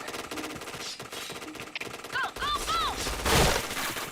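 Rapid automatic gunfire bursts in the first-person shooter game Point Blank, crackling in quick strings, with a voice talking in between and some electronic tones near the end.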